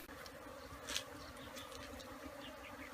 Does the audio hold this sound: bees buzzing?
yes